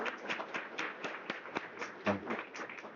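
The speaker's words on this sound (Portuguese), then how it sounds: "Uma salva de palmas." Audience applause at a sponsored talk evening, a steady crackle of many hands clapping at moderate distance, filling the whole stretch without voices on top.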